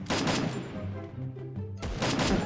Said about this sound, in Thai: ยิงยิงยิงยิงยิงยิงยิงยิงยิงยิง